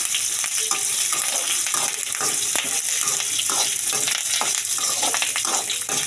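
Chillies, cumin, coriander seeds and curry leaves fry in hot oil with a loud, continuous crackling sizzle, close up, broken by frequent stirring scrapes and small pops, no voices over it.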